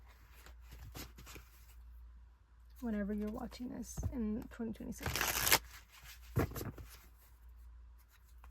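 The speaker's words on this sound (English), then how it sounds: "Just one more shuffle and then we'll go into it." Tarot cards shuffle in the hands during a reading, a few crisp riffling bursts and soft slaps close by, with someone talking before and between them.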